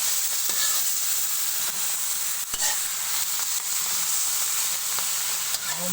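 Garlic sautés in a pan for ginisang kangkong with a bright, steady crackling sizzle, punctuated by occasional clicks and scrapes from a stirring utensil.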